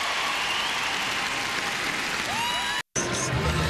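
Audience at the 2010 U.S. Figure Skating Championships men's free skate in Spokane applauds Ryan Bradley, a dense, sustained wash of clapping and crowd noise that briefly cuts out near the end, with some voices mixed in.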